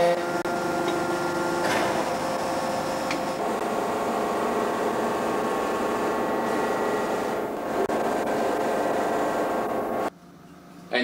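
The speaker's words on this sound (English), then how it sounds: "The machine is ready to extrude the copper pill." Press back-extruding a copper pill into a quarter wave resonator, a steady mechanical hum and hydraulic whine with faint ticks and creaks, continuing evenly for about ten seconds before cutting off abruptly.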